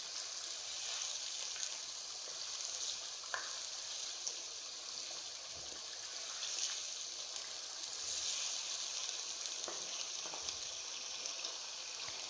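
Beef and potatoes fry in a pot in a steady, soft sizzle with a faint watery hiss and occasional small crackles as water is splashed in. The sound is even and moderately distant, with no talking.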